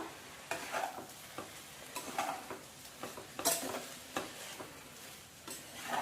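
Gongura chicken fried rice with a dash of soy sauce being tossed and stirred in a pan, with repeated scraping spoon strokes and light clinks over a soft sizzle, close and fairly quiet.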